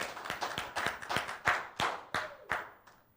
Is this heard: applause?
yes